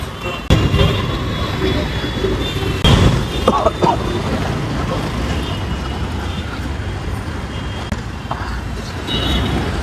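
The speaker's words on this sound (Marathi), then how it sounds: "सगळ्या गाड्या गेल्या त्याच्यावर" Road traffic moving through a signal, a continuous rumble of cars, buses and trucks passing close by, with a few louder surges and brief voices in the background.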